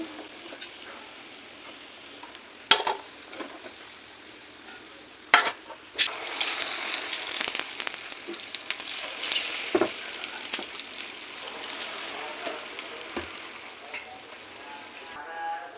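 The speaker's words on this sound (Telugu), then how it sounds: "ఇలా గోల్డెన్ కలర్ వచ్చే వరకు ఫ్రై చేసుకొని తీసేసుకోవాలి" Punugulu batter fritters deep frying in hot oil: a steady close sizzle with a few sharp clatters early on, then a busier, denser crackle that holds to the end.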